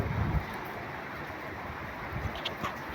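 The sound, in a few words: strong wind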